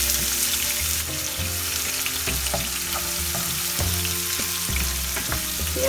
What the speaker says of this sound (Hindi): प्याज हमें 3-4 मिनट फ्राई करना है मीडियम फ्लेम पे